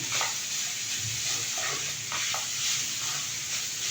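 Grated coconut warming in a pan for a rice-flake and carrot breakfast dish, stirred with soft repeated scrapes over a steady low sizzle, close and alone.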